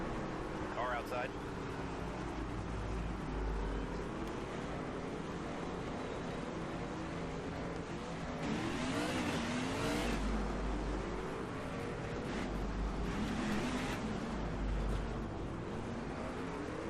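Race cars in NASCAR 25 at a short track hold a continuous engine drone as they lap, rising in surges of revving under steady speech throughout.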